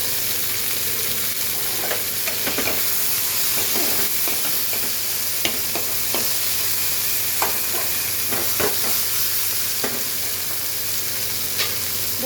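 Potatoes and bitter gourd with chopped green chilli stir-fry in a pan, a steady close sizzle broken by frequent scraping clicks of a spatula, with no voices.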